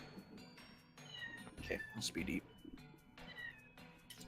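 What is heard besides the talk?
cat meowing from the kitchen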